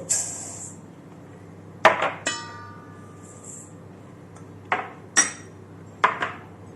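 Dry bulgur tipped into a kitchen bowl, giving a few sharp clinks and rattling taps in separate clusters, close and fairly quiet against a still room with no talking.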